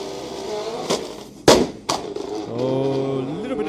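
A Subaru STI drag car with launch control and anti-lag at Liqui Moly Drag Wars 2024 lets out three sharp, loud pops, then the engine note swells and climbs as the car launches.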